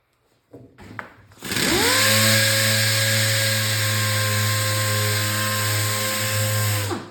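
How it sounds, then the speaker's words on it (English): A dual-action sander with 180-grit paper sands a pinstripe off painted Harley-Davidson bodywork, starting after a few handling knocks and spinning up to a loud, steady whine that holds without a break. "I'm just going to use some 180 grit on my DA."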